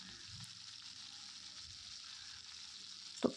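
Potatoes fry in a pan seasoned with salt and turmeric, giving a soft, steady sizzle throughout with a brief louder clatter near the end as they are stirred.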